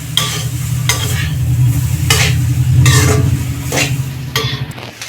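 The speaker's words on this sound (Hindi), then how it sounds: "चलाते देके इसको फ्राई करेंगे।" Boiled ingredients are stir-fried in a pan, with loud, close scraping strokes arriving in a rough rhythm about once a second over a continuous sizzling hiss.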